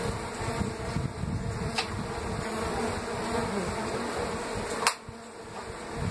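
Mandaçaia stingless bees buzz steadily around a hive box right after a colony split, a continuous close drone with a couple of faint clicks and no talking.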